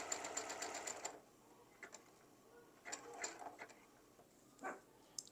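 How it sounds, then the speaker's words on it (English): A sewing machine stitches Tula Pink Big Woods quilt fabric very slowly, a short burst of rapid ticking followed by sparse, quiet clicks and brief mechanical whirs, close by. "I'm sewing as slow as I can."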